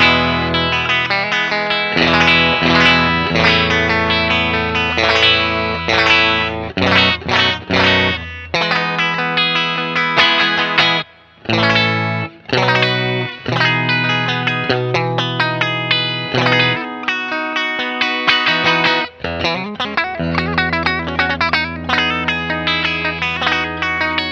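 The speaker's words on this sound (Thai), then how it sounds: "ลองฟังปิกอัพทีละแก๊กเพียวๆ แล้วอาจจะมีเปิดเอฟเฟกต์คอรัส ดีเลย์รีเวิร์บให้ฟังด้วยนะครับ" Nash T63 Telecaster electric guitar played through chorus, delay and reverb effects, picked notes and chords in lively phrases with brief pauses, shimmering and echoing tails, loud and close without talk.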